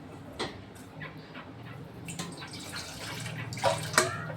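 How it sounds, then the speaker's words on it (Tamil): Water poured from a vessel into a cooking pan holding mangoes for a Tamil mango kulambu, a soft continuous splashing and trickling with a few brief knocks and clinks, close and fairly quiet. "அதில் இந்த மாம்பழத்தை போட்டு கொஞ்சம் தண்ணி விட்டு வேக விட்டுறணும்."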